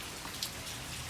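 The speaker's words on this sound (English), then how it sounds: "And it's raining, guys." Rain pours outdoors in Kerrville, Texas, in February, making a steady, dense hiss of drops hitting surfaces close by, with no voices.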